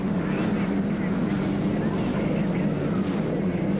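Loud, steady roar of U-2 "The Squire Shop" hydroplane racing boat engines during a three-boat race at the 1980 Seafair race, droning continuously, with a low hum throughout and no clear break.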